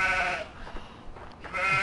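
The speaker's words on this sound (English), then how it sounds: "Okay, so I released the sheep." Sheep bleat inside a video game after being released from a pen, two drawn-out wavering bleats at the start and end with softer clatter and game noise between them.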